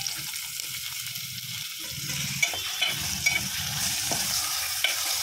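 Mutton keema frying in a pan with transparent-cooked onions and thinly chopped green chillies, giving a steady close sizzle with stirring scrapes and occasional light clicks of a spoon, no talk.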